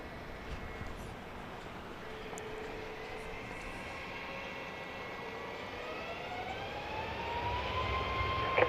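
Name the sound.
Boeing 737 MAX 8 jet taking off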